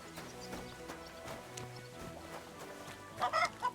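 Horse hooves clip-clop at a walk in the medieval video game Kingdom Come: Deliverance II, a soft uneven patter under game ambience, ending with a louder burst of animal calls.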